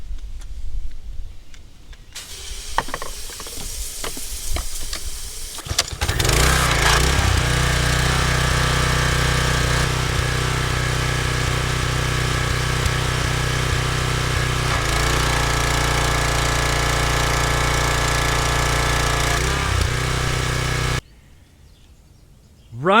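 A Troy-Bilt pressure washer with an auto choke, repaired after failing to start, rattles through a few tries, then its small engine catches and runs loud and steady at close range before shutting off.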